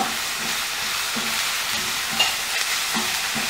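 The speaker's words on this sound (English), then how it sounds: "and roast the ginger garlic paste till this oil" Ginger garlic paste roasting in hot oil for Indian misal, a steady close sizzle with regular scraping stir strokes, alone without talk.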